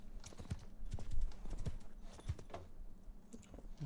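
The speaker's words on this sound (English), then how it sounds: "Bloody horse." Horse hooves in Mount & Blade Bannerlord clip-clop in a quick uneven rhythm, close and moderately loud, over a low battle background.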